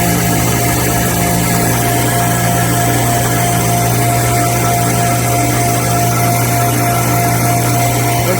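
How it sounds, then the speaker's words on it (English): An edge bander machine switched on and running, giving a loud, steady mechanical hum with a constant motor drone that holds unchanged throughout without any talking. "Let's see what happens when we turn it on."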